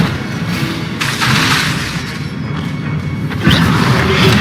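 Fiery spell bursts in Hogwarts Legacy combat, a pair of heavy booming thuds with rushing flame-like noise, loud and close, the second blast near the end stronger than the first.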